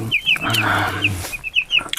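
Broiler chicks chirping and clucking close by, several high peeps in quick succession over a low background hum.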